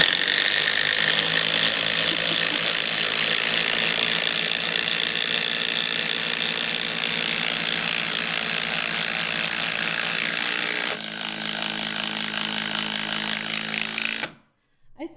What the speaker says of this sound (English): So these are 7-inch GRK RSS screws. So I have the Milwaukee set to 3.